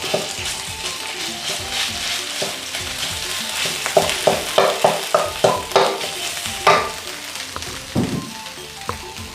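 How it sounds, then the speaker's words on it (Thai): Loud, steady sizzling of Thai curry paste frying in a little hot oil, with rhythmic scraping and clanking strokes of a spatula against the wok. "เราก็จะใช้กระทะใบเดิมในการผัดนะครับ ใส่น้ำมันลงไปเล็กน้อยนะครับ แล้วก็ใส่พริกแกงลงไปครับ"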